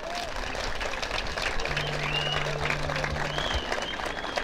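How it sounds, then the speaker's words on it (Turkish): Outdoor crowd at a Turkish village lake festival applauding for the folk minstrel Aşık Gül, a dense steady clapping wash with a faint sustained tone and scattered voices beneath. "Aşık Gül abi için güçlü bir alkış"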